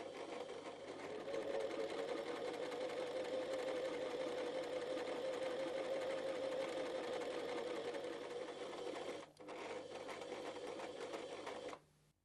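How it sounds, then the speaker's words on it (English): An Empisal Protea Elite sewing machine sews the length of a buttonhole with a steady, rapid, mechanical whir that stops briefly near the end. The sound is quiet and close. "Lower the pressure foot lever and you are ready to sew the length of a buttonhole."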